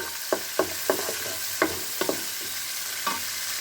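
Squeezed grated radish frying in a pan, a low sizzle under a series of about eight sharp scraping strokes of a spatula at an uneven pace, close by and without speech.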